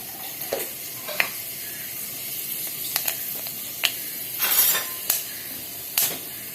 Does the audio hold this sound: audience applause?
no